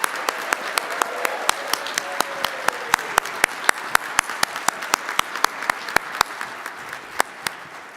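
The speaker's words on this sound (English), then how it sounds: "let's have one more round of applause for all of our finalists." Applause from an audience at an awards presentation honoring finalists for CFO of the Year, a steady wash of clapping with sharp individual claps standing out throughout, sustained and fairly even in level.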